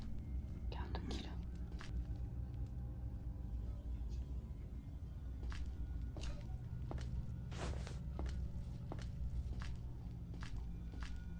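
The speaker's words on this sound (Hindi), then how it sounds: "पैरों की आवाज़ बहुत डराती है।" Footsteps in the horror video game Granny 3 thump unevenly through the house, a run of heavy irregular steps and thuds with a low rumbling background and some muffled whispering.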